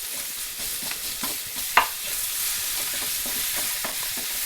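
Tomato stir-fries in a pan for chicken sambar, giving a continuous sizzle broken by repeated scraping strokes of a spatula and one sharper knock against the pan.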